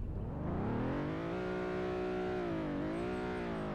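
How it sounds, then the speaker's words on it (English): Toyota Tacoma pickup truck engine revving in a video game, a steady loud drone whose pitch climbs, dips and climbs again over a few seconds, with no talk over it. "Get a little bit of revving."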